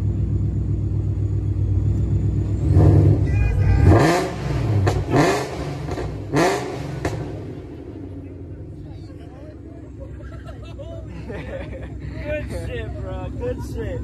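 A widebody Dodge Charger 392 V8, heard from the front, snarls through several quick, loud revs that spike and fall back, then drops to a lower idle while people talk nearby and wind buffets the microphone.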